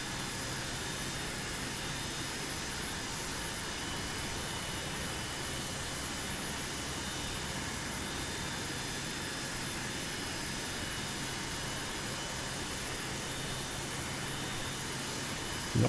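Steady, unbroken jet engine roar from an RNZAF Boeing 727 in Microsoft Flight Simulator 2024, flying from Canberra to Ohakea, droning evenly throughout.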